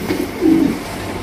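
High-quality tiger red checker racer pigeons coo softly at close range, two low throaty coos in quick succession with no talk over them.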